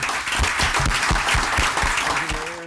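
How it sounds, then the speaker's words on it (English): Brief burst of audience applause at a city commission meeting, dense clapping close by that fades as a voice begins at the very end. "Can we have a round of applause?"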